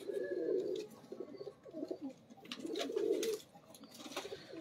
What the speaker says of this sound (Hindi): ये लाल आंख वाला कबूतर है।